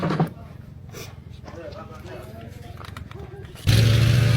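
A paramotor engine warming up on the ground roars in near the end as a loud, steady, buzzing drone, following a stretch of muffled background voices and noise.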